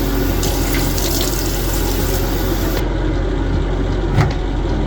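Tap water runs steadily into a sink while a homemade collagen face mask is rinsed off skin, a constant close splashing flow that briefly drops in brightness partway through, with no talking.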